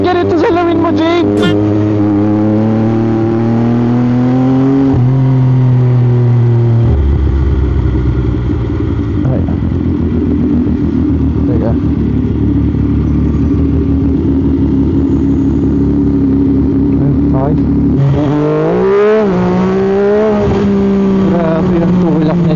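A three-cylinder MV Agusta F3 motorcycle engine pulls hard and steadily on a night ride, rising and falling in pitch as it accelerates through gears, loud and close throughout.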